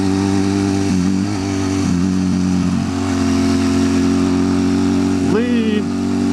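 A motorcycle fitted with Harley pipes idles in neutral with a steady, throbbing low engine note, then gives a short rev near the end.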